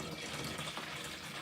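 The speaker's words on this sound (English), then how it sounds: "And from here, we pour it in." Water melted from snow is poured into a plastic container, giving a brief, faint, steady trickling splash.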